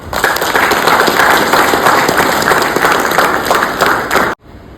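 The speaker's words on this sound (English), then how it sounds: "Let's give ourselves a huge round of applause." Loud, dense applause from a large audience at a corporate sales award ceremony, continuous clapping that cuts off abruptly near the end.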